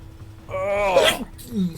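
A single close, loud sneeze with a drawn-out voiced build-up and sharp release, followed by a brief murmur of voice.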